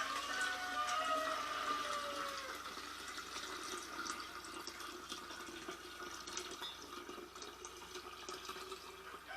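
Sweetened tea pours steadily into a roughly 2.5-gallon kombucha brewing container, a faint continuous splashing and gurgling stream heard from a short distance.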